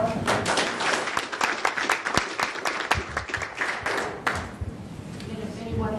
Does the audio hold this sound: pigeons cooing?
no